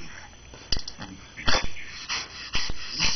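A small Maltese dog guarding a grapefruit makes low rough growls and wheezy snorts, short close bursts coming in uneven spurts between quieter moments.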